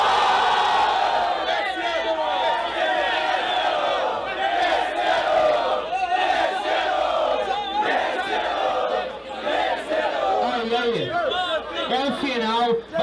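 A large crowd roars and shouts continuously, with whoops and cheering voices layered together in a loud, sustained wave of noise.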